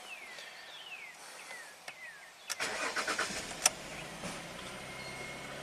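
Jaguar S-Type V6 engine cranking and catching after coolant is added, with birds chirping faintly beforehand, then a burst of starter and firing that settles into a steady, smooth idle close by.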